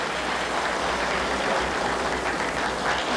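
A crowd at a pool exhibition breaks into a standing ovation, with dense, sustained applause that stays loud and even throughout, no voices standing out above the clapping.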